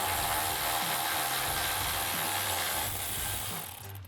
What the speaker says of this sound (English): you're gonna need a 17mm socket and a ratchet